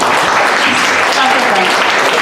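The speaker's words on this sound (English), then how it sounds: "So welcome him to the stage with a round of applause too" A conference audience at 1 Million Cups Dallas claps to welcome a speaker to the stage, a loud dense wash of applause that continues without a break.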